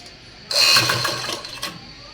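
A sewing machine runs in one steady burst of a little over a second while stitching a half-inch folded collar edge, close by with a rapid mechanical whirr and faint clicks.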